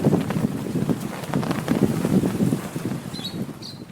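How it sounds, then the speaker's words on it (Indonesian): Strong wind blows across the Kampung Laut mangrove area near Cilacap, a loud, continuous rushing rumble with gusty pulses, close to the microphone. "angin cukup kencang berhembus"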